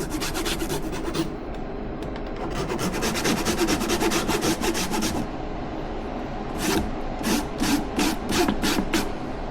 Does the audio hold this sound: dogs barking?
no